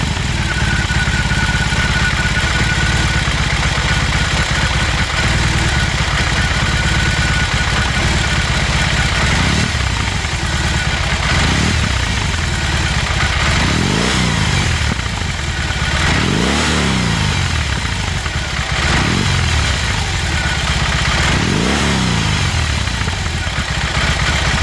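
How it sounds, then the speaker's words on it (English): A BMW R18 motorcycle engine idles at close range, a loud, steady, throbbing boxer rumble. Several times it swells briefly with blips of the throttle and then settles back to idle. "it idles right around 900 to 1000 RPMs"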